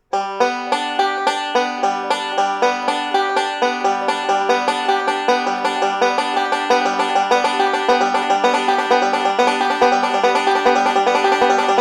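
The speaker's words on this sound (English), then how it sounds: "the last really basic roll that we use a lot in bluegrass banjo playing" Bright banjo notes ripple in a continuous eight-note Scruggs roll that grows steadier and denser, played up close without a break.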